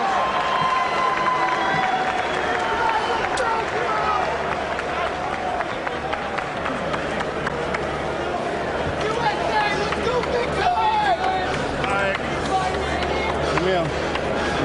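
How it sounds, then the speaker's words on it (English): A boxing arena crowd grumbles and murmurs at a cautious heavyweight bout between Vladimir Klitschko and Jamil McCline, a broad, restless hubbub running steadily underneath close commentary. "And the crowd isn't terribly happy about it now."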